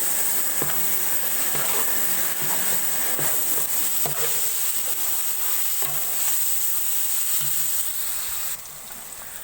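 Ginger paste and curry leaves frying in a pan, giving a loud, continuous hissing sizzle with faint periodic stirring scrapes, easing slightly near the end.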